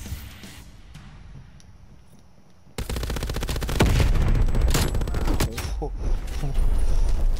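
MG 82 machine gun in Call of Duty Black Ops Cold War firing in long, rapid automatic bursts after a quieter opening stretch, loud and sustained, with a voice talking underneath.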